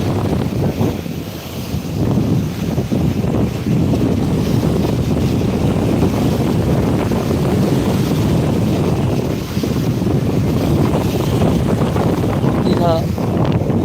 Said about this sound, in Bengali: ওই যারা আসছে দেখতে পাচ্ছ ওইগুলো হচ্ছে ট্রলার ওইগুলো বড় বড়